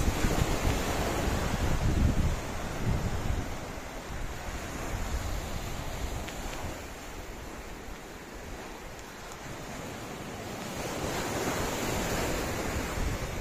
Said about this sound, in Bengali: জলের আওয়াজ শুনতে পাচ্ছ